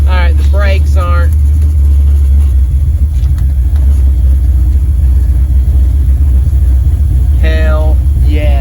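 A 1979 Camaro on its first start, rolling along without power steering, makes a steady low engine rumble throughout while voices talk briefly near the start and end.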